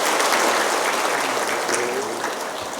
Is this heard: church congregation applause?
yes